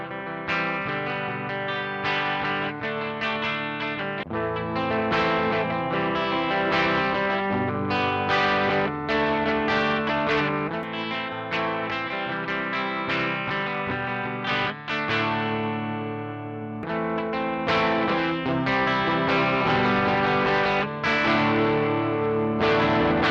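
Electric guitar played through Tech21 FR5 and RK5 overdrive pedals back to back, a dense distorted tone of chords and riffs in repeated phrases, loud and continuous with brief breaks between passages.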